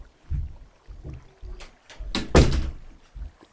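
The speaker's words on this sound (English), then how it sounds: "I'm just gonna close the door." A door being shut indoors gives a loud thunk near the middle, with softer bumps and knocks before and after it and no talk.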